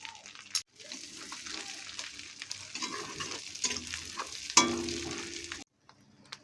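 Bay leaves, dry red chili and a spoonful of panch phoron crackle in hot oil for a Bengali ol chingri dish, with a soft, uneven sizzle, clinks and stirring scrapes, one sharp clatter midway, and a quiet gap near the end.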